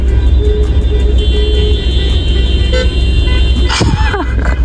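Car horns honk repeatedly from a crowd at a festival campsite during the GP Explorer 2 event, loud toots ringing over a dense wash of crowd noise and voices.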